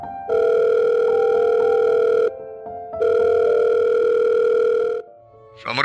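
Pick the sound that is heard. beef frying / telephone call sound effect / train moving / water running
telephone call sound effect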